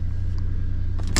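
A 1997 Toyota 4Runner 5-speed manual 4x4 idles nearby, a smooth, steady low engine rumble with a brief clunk or click near the end.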